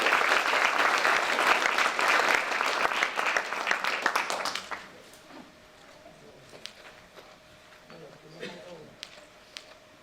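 Audience applause at a physician assistant white coat ceremony at Thiel College: loud, dense clapping for about five seconds, then dropping to a quieter room with a few scattered claps and faint voices.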